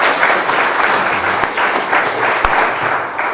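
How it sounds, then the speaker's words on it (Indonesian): A church congregation applauds during a service, a loud, dense burst of clapping from many hands that stays steady for a few seconds. "Kita beri tepuk tangan yang meriah."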